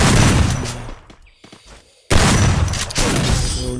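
Gunfire from the mobile shooter Free Fire, with dense bursts of rapid automatic shots, a short gap near the middle, then a loud renewed volley that continues to the end, close and alone.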